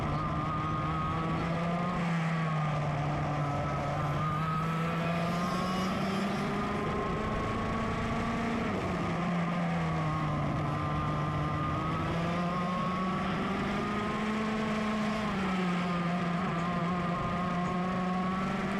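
Master 100cc racing karts at Sonoma racetrack howl continuously, their buzzing engines rising and falling in pitch through corners and straights, loud and close with no pause.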